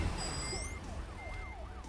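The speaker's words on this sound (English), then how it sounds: "Y'all hear the sirens, y'all?" Police sirens wail in repeated rising and falling sweeps amid steady traffic rumble, with a higher tone briefly gliding upward over the top; the sound stays loud and continuous throughout.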